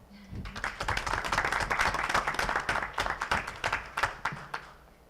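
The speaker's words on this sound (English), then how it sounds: "I think we all owe him a round of applause." A roomful of people applauds, dense clapping swelling and then thinning out into scattered claps, moderately loud and nearby.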